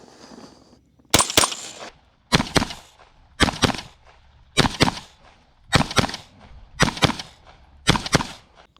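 A Bear Creek Arsenal BC-22 Magnum rifle fires a magazine on a range, seven sharp, loud cracks at roughly one-second intervals, each followed by a brief echo, with quiet gaps between.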